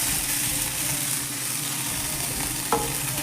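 Rice with tempering fries in a pan for vamu annam, giving a continuous close sizzle with stirring scrapes and one brief clack near the end.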